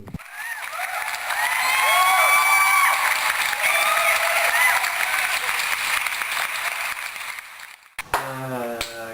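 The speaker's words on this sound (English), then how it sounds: "a brief clapping moment at the end of the episode" A crowd bursts into steady, loud applause with cheering and whistles, closing out an episode of a fan-fiction comedy talk show. The applause cuts off near the end, and a voice speaks briefly.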